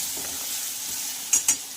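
Spices being stirred into onion and tomato frying in a pan, a steady low sizzle with two sharp scraping clinks of the spoon near the end.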